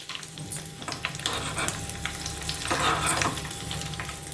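Unpeeled crushed raw garlic cloves and spices fry in a pan, a loud continuous sizzle with crackling bursts and occasional stirring scrapes, close up, with no voices.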